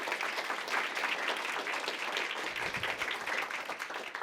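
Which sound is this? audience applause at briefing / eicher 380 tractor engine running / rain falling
audience applause at briefing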